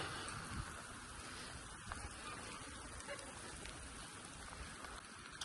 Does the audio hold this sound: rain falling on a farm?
yes